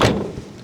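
A van door is shut with one sharp thud that decays quickly, heard alone.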